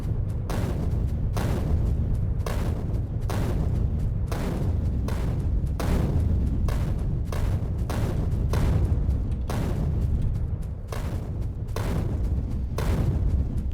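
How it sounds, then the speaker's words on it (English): Grenades explode in the Factorio video game as a rapid series of loud, booming blasts, roughly one every second and evenly repeated, with no talk over them. "nice to have the one-shot grenades now"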